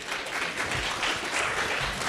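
Steady applause from a crowd at a congress event in Miami, welcoming a speaker; dense, continuous clapping that stays loud and even throughout with no talking over it.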